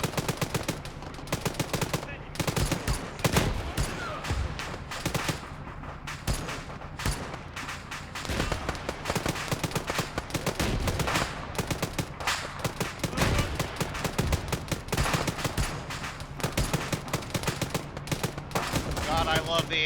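AR-10 rifle fire in a shooter video game, dense and continuous, with rapid overlapping shots and bursts from several guns running for the whole stretch, fairly loud, with occasional voices mixed in.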